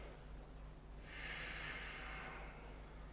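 Breath drawn during a held warrior pose in Ashtanga Vinyasa yoga, a soft airy inhale beginning about a second in and continuing as a long hiss, close and faint over low room noise.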